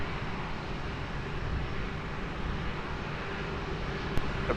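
Steady, distant roar of an airliner's engines as it takes off from runway 20 at Lisbon Airport, a broad rumble holding fairly even throughout with a small tick near the end.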